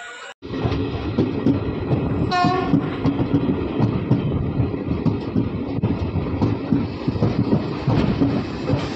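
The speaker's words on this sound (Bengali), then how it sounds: "তো দেখতেই পাচ্ছ ট্রেন দাঁড়িয়ে আছে।" A train rumbles steadily close by with clattering wagons at Murshidabad station, and a brief horn blast sounds near the start.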